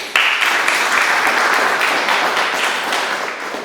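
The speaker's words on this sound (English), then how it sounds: "Give yourselves a round of applause." A room of conference attendees claps in a dense, steady round of applause that holds at an even level and tapers slightly near the end.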